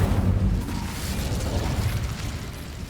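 The Incendio fire spell cast in Hogwarts Legacy: a dense, roaring whoosh of flame with crackling bursts, loud and steady throughout, with no voices.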